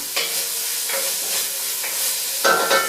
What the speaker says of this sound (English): Obviously, you're going to stir it up occasionally.